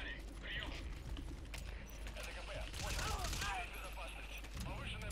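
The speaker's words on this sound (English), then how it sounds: "I just shot your friend" Gunfire in Metal Gear Solid V: The Phantom Pain rattles in quick bursts of shots amid mechanical clanks and game ambience, while a player talks over the action.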